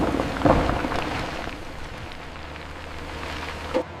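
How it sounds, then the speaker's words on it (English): Limestone is dumped from a truck at a cement plant, a dense rattling, hissing cascade of rock with a heavier thud near the start and another near the end over a low engine hum. "The limestone is unloaded."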